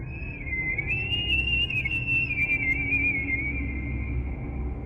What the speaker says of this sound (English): A high-pitched whistle coming from somewhere near the trees.